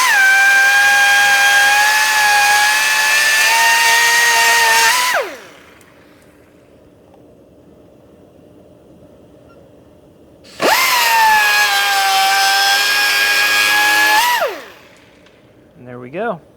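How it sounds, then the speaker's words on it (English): A cutoff wheel slicing through material during a Chevrolet C10 gauge install, two long loud high-pitched whining cuts separated by a pause, each ending as the wheel spins down. "So I'm going to use a cutoff wheel."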